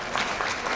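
A short burst of loud, dense applause from a congress audience for a congressman, steady clapping throughout.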